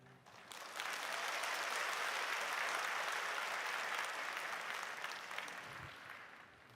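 A church congregation applauds after a hymn, a sustained, even roar of many hands clapping that swells quickly, holds for several seconds, then gradually tapers off.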